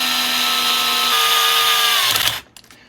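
A power driver whirs steadily as it tightens flathead screws on the gearbox cover of a Tekno EB48 2.2 1/8-scale RC buggy. The motor pitch dips slightly partway, then it stops abruptly near the end, and a couple of small clicks follow.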